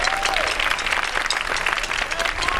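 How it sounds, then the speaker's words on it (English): Audience at a school band concert applauding the percussionists, a loud, dense burst of clapping filling the room from start to finish. "So round of applause for the percussionists."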